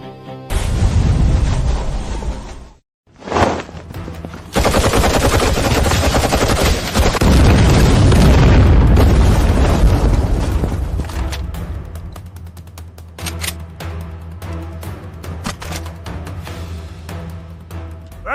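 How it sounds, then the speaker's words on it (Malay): Several guns fire together in a dense, loud volley of rapid bursts, broken by a brief pause near the start, then a sustained roar of fire that thins into scattered shots and fading echoes. "Tembak serentak."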